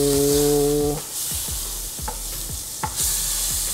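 Butter melts and sizzles in a hot pan on the stove, a continuous close frying hiss with several short scraping stirs and a low hum at the start.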